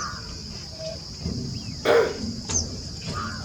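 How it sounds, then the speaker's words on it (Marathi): Birds call intermittently over a steady background of insect buzzing at Nandur Madhyameshwar bird sanctuary, with a few sharp chirps standing out against the outdoor ambience. "आपणही या पक्ष्यांचा आता आनंद घ्या"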